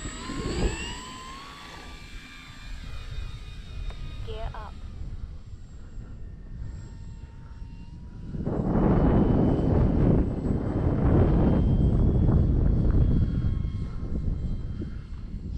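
A Dynam Focke-Wulf 190 RC model airplane on a 4S battery takes off. A person talks over a quieter stretch before the electric motor surges loud and stays at a strong, steady roar as the plane climbs away.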